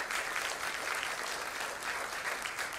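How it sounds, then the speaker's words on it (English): A conference audience at a Women in Tech Africa event in Mauritius gives a big round of applause for an award recipient, with dense, sustained clapping from many hands that stays loud and steady throughout. "I will invite all of you to give a big round of applause for Samira Chatel-Koirati."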